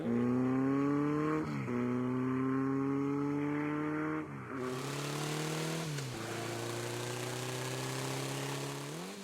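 Motorcycle engine in a Tomb Raider cutscene, a steady droning rev that shifts pitch in several stepped gear changes, loud and close with no talk over it.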